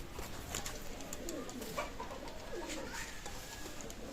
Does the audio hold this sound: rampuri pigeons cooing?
yes